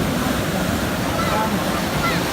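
Sea waves washing onto a beach near a lighthouse in the evening, a steady broadband rush of surf with wind buffeting the microphone, continuous and fairly loud with no distinct breaks.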